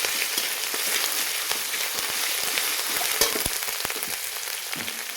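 Dried red chili paste sizzling as it fries in a pan for potato posto with drumsticks, a steady close hiss with small crackles and pops throughout.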